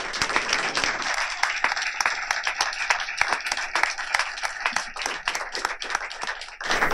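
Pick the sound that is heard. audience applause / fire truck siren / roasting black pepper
audience applause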